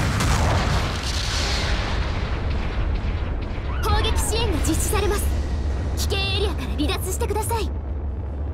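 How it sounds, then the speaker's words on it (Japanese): Artillery support barrage in Gundam Battle Operation 2, a steady heavy rumble of shelling and booms running throughout, with synthesized voice announcements and tonal game cues layered over it in the second half. "後方部隊からの支援砲撃が来ます。"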